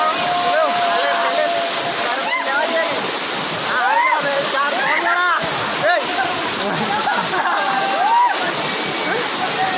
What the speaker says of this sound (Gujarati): આ વોટરફોલ છે ભાઈ.